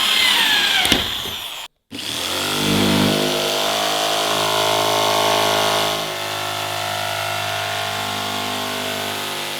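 A close power drill runs loud and continuous through a plastic bin lid, stopping briefly once, then grinding on with a steady high whine.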